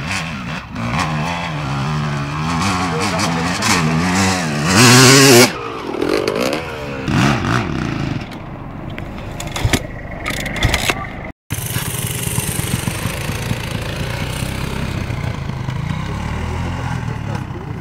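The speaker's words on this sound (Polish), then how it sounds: "Ale motor porządny." An enduro motorcycle engine revs repeatedly up and down at an enduro event in Krzeszowice, loud and close, with rising and falling pitch sweeps and brief pauses between bursts.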